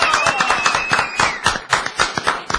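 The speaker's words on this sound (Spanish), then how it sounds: "Aplausos, gritos y ovación." Applause and cheering from an audience saluting rugby player Sergio París, a steady patter of clapping with scattered whistles and shouts, fairly close and lively throughout.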